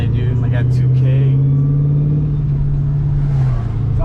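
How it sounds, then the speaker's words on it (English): A car engine idles high at around 2,000 RPM after a 78 mm big-bore throttle body install, a loud, steady low hum that holds a constant pitch close by before easing slightly near the end. "my car is freaking idling high, dude, like at 2K"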